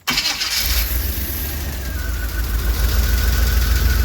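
A GM 350 V8 with throttle body injection cranks and catches almost at once after a distributor replacement, then settles into a loud, steady, rumbling idle up close.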